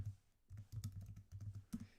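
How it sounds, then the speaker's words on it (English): Quick, uneven clatter of keys on a computer keyboard, typed in irregular bursts with short pauses; close but quiet, with no voices. "I was typing at the same time as trying to speak."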